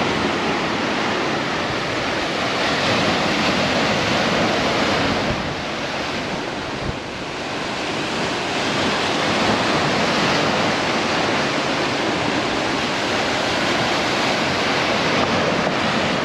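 Waves wash continuously onto Cala Escondida, a quiet hidden bay in Ibiza, as a steady, dense roar of surf that stays loud and unbroken throughout.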